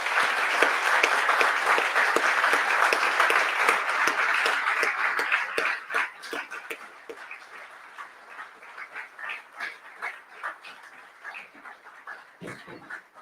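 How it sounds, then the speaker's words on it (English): Sustained audience applause at a live games talk event in Dundee, dense and loud for about six seconds, then thinning into scattered individual claps as it fades out. "Please, let's give one more round of applause for all our speakers today."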